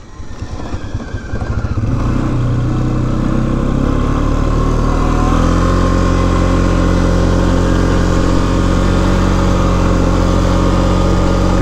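A four-wheeler ATV engine starting up and then running steadily outdoors on a cold, snowy day, loud and close with a constant droning hum and no talking.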